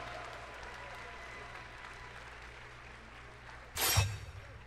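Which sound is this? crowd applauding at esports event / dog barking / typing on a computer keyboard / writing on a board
crowd applauding at esports event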